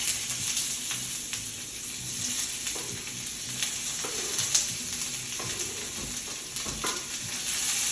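Peppers and onions searing in a hot pan, a loud continuous hiss close up with scattered stirring scrapes and soft knocks throughout, no one talking.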